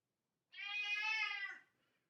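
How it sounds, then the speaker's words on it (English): A cat lets out a single clear, drawn-out meow close by in an otherwise quiet room. "There's the cat."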